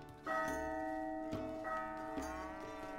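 Church bell in the medieval castle-building game Stronghold, tolling twice with strong, lingering metallic overtones and a loud, sustained ring that decays slowly between strikes, with no voices.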